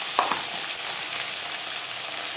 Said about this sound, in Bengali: দিয়ে দেবো টুকরো করে কেটে রাখা টমেটো